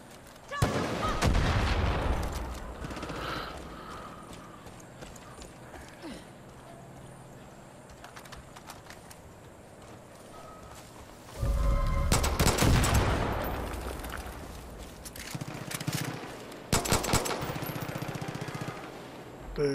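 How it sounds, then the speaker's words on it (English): Gunfire in the video game Far Cry 5: loud bursts of shots come in two main clusters separated by a quieter stretch, with someone talking between them. "Who's shooting?"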